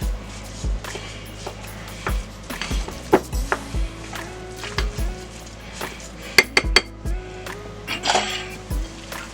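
Meatball mixture with hot onions is mixed in a bowl with a wooden spatula, producing a series of close knocks and scrapes against the bowl in an irregular rhythm, with no talking.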